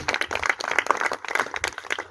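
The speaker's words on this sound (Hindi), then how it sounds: "मैं सुरेंद्र गौतम के लिए एक जोरदार ताली चाहता हूँ" An audience at a DXN gathering bursts into brisk, dense applause honoring Surendra Gautam. The clapping fills the whole short stretch in uneven surges, with no voice over it.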